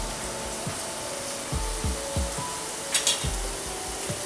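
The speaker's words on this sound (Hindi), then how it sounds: "फिंगर्स को लाइट गोल्डन ब्राउन होने तक सेकेंगे।" Sabudana fingers fry in a kadai until light golden brown, giving a steady close sizzle with soft thumps from stirring or turning the pieces. No one speaks.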